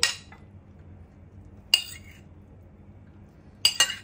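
Jam bharta being poured into a bowl: three sharp clinks of a utensil against a dish, spaced apart, close and clear over a quiet room with no speech.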